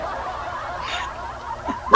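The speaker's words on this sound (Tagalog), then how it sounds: "Ayun, ay tumahol na." A dog lets out a single sharp bark right at the end, after a faint yip, over a quiet background.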